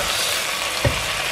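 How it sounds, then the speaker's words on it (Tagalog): Pork belly sizzles steadily in a hot pan for sinigang, a constant frying hiss with a single soft scrape of stirring partway through. "Halo-halo lang guys hanggang maging brown yung ating meat."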